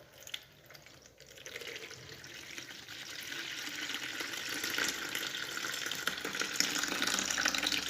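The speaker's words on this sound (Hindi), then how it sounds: "ये मैंने जग में पानी लिया हुआ था, इसमें हम पानी ऐड करेंगे" Water pours from a jug into an empty bowl in a home kitchen, a steady splashing stream that builds gradually and grows fuller over several seconds, with no talking.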